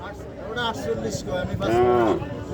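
A Friesian cow at a cattle market lets out a close, loud, drawn-out moo that rises and then falls, with market voices murmuring behind it.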